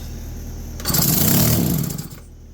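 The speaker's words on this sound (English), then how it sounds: "That is an electric start chainsaw." A 1961 McCulloch electric-start chainsaw engine revs up loudly for about a second and a half, a buzzy two-stroke roar that then drops back to a lower steady idle.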